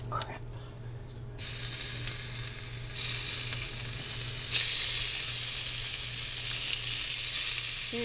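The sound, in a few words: thinly sliced beef frying in sesame oil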